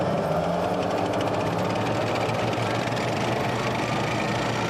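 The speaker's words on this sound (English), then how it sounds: "the Army developed the Field Artillery Ammunition Support Vehicle" A steady, dense engine rumble from an armored Army Field Artillery Ammunition Support Vehicle that serves an M109 howitzer, running continuously and fairly loud with a constant mechanical drone and no talk.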